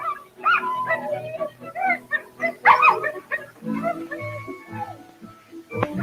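Sled dogs close by yip, bark and whimper in bursts, with overlapping excited whines.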